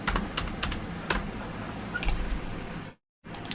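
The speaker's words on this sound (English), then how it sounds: "whenever I type digitally, just to let you know that I'm not typing on a typewriter" Rapid typing on a computer keyboard, close and dry, with irregular clusters of sharp key clicks and a brief silent pause near the end before the keystrokes resume.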